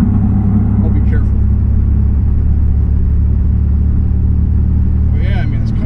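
A 2002 Pontiac Firebird V6 with a manual gearbox cruises along, its deep, constant engine rumble and road noise filling the cabin at a steady, unchanging level.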